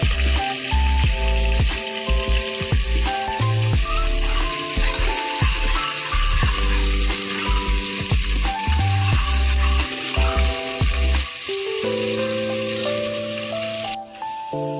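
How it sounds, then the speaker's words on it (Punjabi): Bottle gourd curry with onions sizzles and roasts steadily in a pan, a continuous frying hiss with occasional stirring scrapes over music. "ਬਹੁਤ ਚੰਗੇ ਤਰੀਕੇ ਦੇ ਨਾਲ ਭੁੰਨਣਾ"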